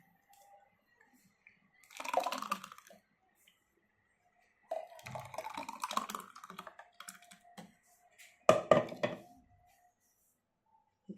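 Watermelon juice is poured over soaked sabja seeds in three short bursts of splashing and trickling, the middle pour longest, close and fairly quiet with silence between.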